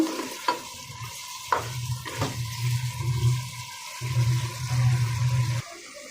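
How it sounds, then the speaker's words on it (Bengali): Fish heads frying and being stirred in a pan, with sharp spatula knocks and scrapes over bursts of sizzling that come and go, loud and close. "মাছের মাথাগুলো একটু ভালোভাবে কষিয়ে নেব"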